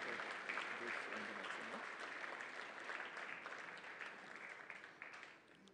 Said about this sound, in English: give a big round of applause to Mark Foundation for the